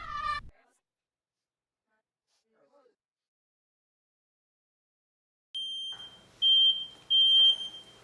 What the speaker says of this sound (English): Smoke alarms should be tested monthly, but not like that.